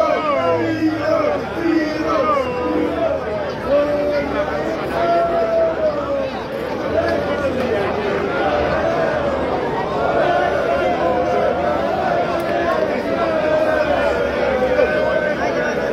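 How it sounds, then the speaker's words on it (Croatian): Welsh football fans in a crowd in Split, with continuous babble and chatter and rising chant-like voices across the whole stretch at steady, fairly loud volume. "Evo ovdje je skupina Velšana koja navija za svoju reprezentaciju."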